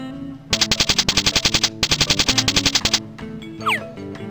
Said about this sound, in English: Maraca